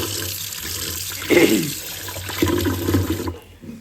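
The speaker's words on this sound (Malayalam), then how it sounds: "അപ്പം അരി നല്ല പോലെ കഴുകിയെടുക്കുന്നുണ്ട്." Running water splashes and sloshes in bursts, like grains being rinsed under a tap, with a low background hum.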